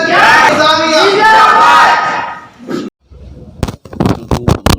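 At a gathering at Jamia Nizamia, a large crowd chants back loudly and in unison to a Nara-e-Takbeer slogan for about three seconds, followed by sharp cracking bursts.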